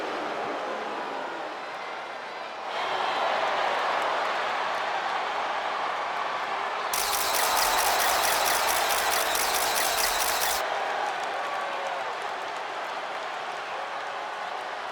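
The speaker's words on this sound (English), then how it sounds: "Tiffany Stratton getting a warm welcome from this home crowd" A home arena crowd in the wrestling game WWE 2K25 roars and cheers as a performer enters, a broad sustained wash of noise that swells after a few seconds, peaks briefly mid-way, then holds steady at a distance.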